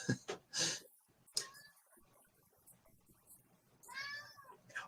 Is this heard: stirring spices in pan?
no